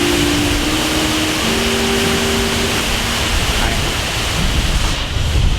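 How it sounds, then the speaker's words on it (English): A large Icelandic waterfall shoots out from a cliff face, heard close by as a loud, steady roar of falling water that never lets up, with a faint low hum running through part of it. "is this big waterfall that shoots out from a cliff"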